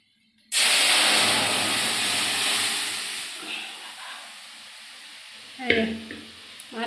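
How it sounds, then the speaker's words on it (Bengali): Lentils hit a hot pan with a sudden loud burst of sizzling and steam hiss that gradually fades over a few seconds, followed by a couple of stirring scrapes and clatters nearby. "এই যে এবার ডালটা দিয়ে দিলাম।"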